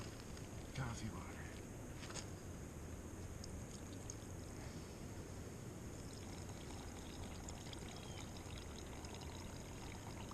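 Water poured steadily for camp coffee on a backpacking trip gives a continuous soft gurgling rush that runs throughout, with a few faint clinks and quiet outdoor background.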